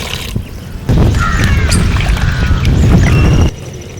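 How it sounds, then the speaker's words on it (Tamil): Water pours steadily into a pot of goat trotter soup with ginger-garlic paste and turmeric for about three seconds, a loud close splashing gush that starts and stops abruptly. "கொஞ்சம் தண்ணி ஊற்றிக்கலாம்"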